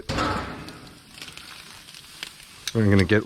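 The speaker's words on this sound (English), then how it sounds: "So what I'm going to do is I'm going to grill it." Chicken sizzles on a hot grill, a close crackling hiss that swells and fades, with a short burst of voice near the end.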